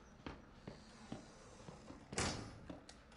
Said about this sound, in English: I'm gonna open the door first.